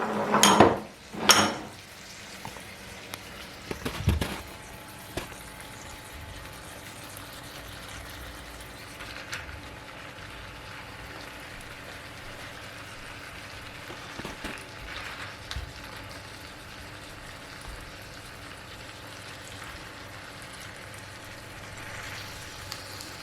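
Pieces of pollock fish are laid into a hot pan with a few clattering knocks of utensil against pan at first, then a quiet steady sizzle of frying continues underneath.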